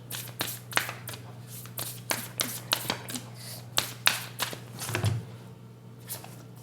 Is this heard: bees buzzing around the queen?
no